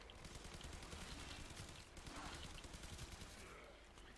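Zhuge Prime crossbow in Warframe firing bolts in a dense, continuous flurry of sharp impacts and bursts, loud and busy throughout with no pause.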